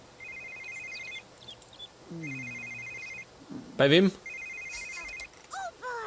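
Phone ringing in The Sims 3, with short repeated electronic ring bursts sounding three times at a steady spacing while someone talks over the game sounds.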